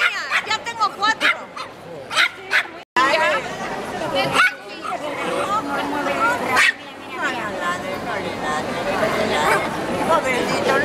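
A dog barks and yips repeatedly, close by, while people chatter over it.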